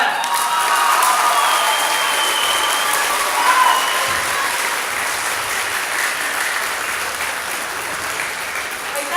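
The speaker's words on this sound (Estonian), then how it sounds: "nüüd suur aplaus Jutale!" Audience applause with some cheering at a school playback talent show, a dense steady wash of clapping from a crowd that holds loud throughout and swells briefly around the middle.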